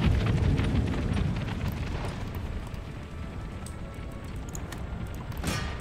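Cannon shot exploding in the Empire Total War strategy game, a loud, deep rumbling boom that fades slowly, followed by a sharper burst near the end.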